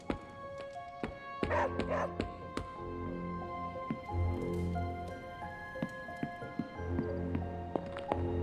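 A dog in the Marvel's Midnight Suns video game gives a few short barks and yips over a humming musical backdrop, with scattered light clicks and thumps and no talk.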